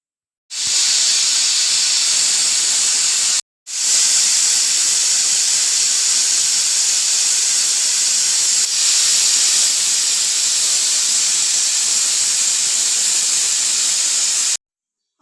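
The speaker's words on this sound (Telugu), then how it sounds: "కుక్కర్ మూత పెట్టుకొని ఒక త్రీ విజల్స్ వచ్చేదాకా పెట్టుకోవాలి" A pressure cooker cooking raw chickpeas and black-eyed peas releases a loud, continuous, high steam hiss that runs almost nonstop, with one brief break near the start.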